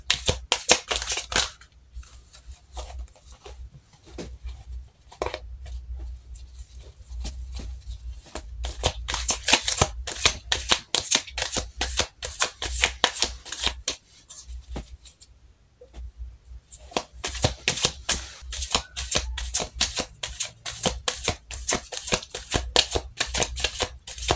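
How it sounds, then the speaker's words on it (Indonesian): Tarot cards are shuffled by hand in several bursts of rapid riffling and flicking. There are brief pauses between bursts, and the sound is close and crisp. "kita shuffle kartunya, kita lihat energinya"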